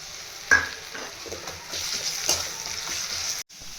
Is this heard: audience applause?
no